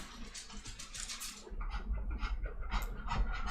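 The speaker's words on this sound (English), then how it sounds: "my dog is in here trying to get me to go for a walk" A dog pants indoors, close by, with quick rhythmic breaths that grow heavier and louder halfway through.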